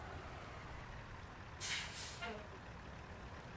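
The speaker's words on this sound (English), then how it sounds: "Do you like that parking brake noise as well?" A truck's parking brake releases a sharp burst of air hiss in American Truck Simulator, loud for about a second over a low idling engine rumble, then tapering off.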